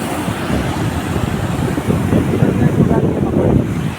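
Ocean waves rolling onto a shore in wind, a loud continuous rush and roar with wind buffeting the microphone.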